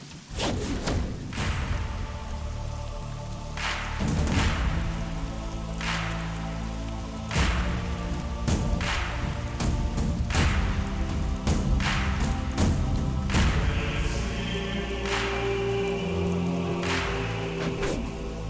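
Steady heavy rain pours through an action fight scene in a South Indian movie, a dense continuous patter broken by loud thuds and whooshing swings throughout.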